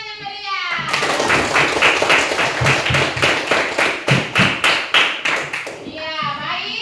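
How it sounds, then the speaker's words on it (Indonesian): A group of schoolchildren claps together in a classroom, a brief rhythmic burst of close, loud, roughly synchronized claps building to a steady beat before fading out, with children's voices around it. "Ada tepuk tangan yang meriah."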